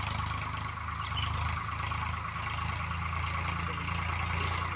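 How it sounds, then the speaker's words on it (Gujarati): A tractor engine idling on a farm, a steady low rumbling drone with a faint rhythmic knock, continuous and fairly close, no talking over it. "હા તો આવી ગયો જો ટ્રેક્ટર બીજો."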